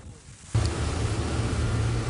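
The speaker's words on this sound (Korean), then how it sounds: "먹구름 가득 낀 맹골수로의 파도는 어제보다 거칠어졌고 빗방울도 떨어졌습니다" Rough sea waves and wind in Maenggol Channel, under dark clouds with light rain, at a ferry salvage site. A quieter opening gives way to loud, continuous wind and surf rumble buffeting the microphone.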